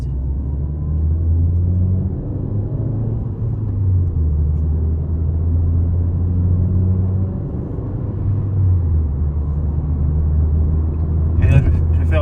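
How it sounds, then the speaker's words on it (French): A Ford Fiesta accelerates hard along a straight road, heard from inside as a steady, loud low engine drone whose pitch climbs and falls through the gears, with a brief clatter near the end. "dans cette ligne droite, je vais pouvoir accélérer un peu plus fort"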